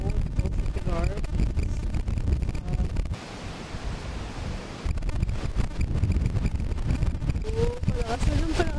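Strong wind roars and buffets the microphone at a campsite in Siruma, Camarines Sur, briefly easing in the middle before gusting back hard.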